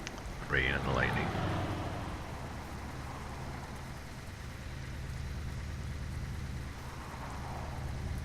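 Rain falls in Euro Truck Simulator 2 as a soft, continuous hiss under a low engine drone, with a short squeaky sound early on.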